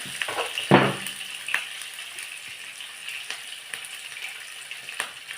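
Green chillies and curry leaves sautéing in oil in a pan, a light steady sizzle with an early sharp clatter and a few scattered stirring knocks, no voices.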